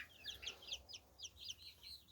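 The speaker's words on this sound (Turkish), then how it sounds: "Işık altında 35 tane burada köy tavuğumuz var." Village hens cluck softly in a group under a light, with a run of short, bright, overlapping clucks against a quiet background.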